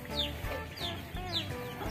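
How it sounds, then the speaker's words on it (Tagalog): Chickens cluck close by near rice spread out to dry, giving three short rhythmic calls over a low steady background. "So, may, may mga manok."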